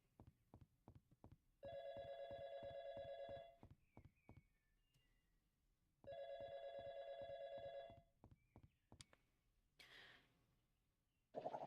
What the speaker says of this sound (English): Ah, phone is ringing.